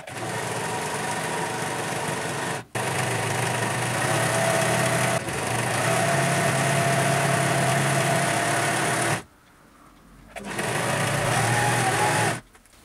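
A sewing machine runs steadily while stitching a shirt's priest-style band collar, a continuous whirring drone with two brief pauses and a short stop near the end before it starts again, close and fairly loud.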